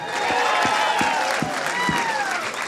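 Studio audience applauding and cheering for a skydiver contestant on a dating show, a dense burst of clapping with scattered whoops and shouts throughout.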